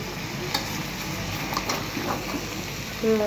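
Vegetable stems being stirred and fried in a pan, a soft steady sizzle with faint scraping of the spoon, a brief louder clatter at the end.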